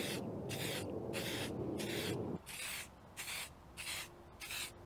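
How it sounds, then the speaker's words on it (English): Bursts of hissing spray from an aerosol can of rust blocker during BMW M3 Competition rear wheel bearing work, a long continuous blast followed by several short, evenly spaced sprays, close up. "we're gonna spray some light coats of rust blocker on this"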